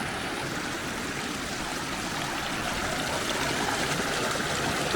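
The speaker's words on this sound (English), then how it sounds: "let's try to fill up my bottle of water somewhere" Mountain stream water rushes continuously beside a Himalayan hot spring, a dense, steady broadband wash that stays loud and close throughout with no talking.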